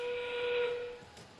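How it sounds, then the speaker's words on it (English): A sustained whistle at a girls' robotics competition marks the start of the endgame period, sounding loud and steady for about a second over arena hiss before fading. "That whistle means it's the sound of the endgame period."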